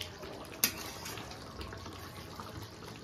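Water pours into chicken gravy cooking in a pan, a faint steady splash and trickle with one sharp knock early on, heard at low volume throughout.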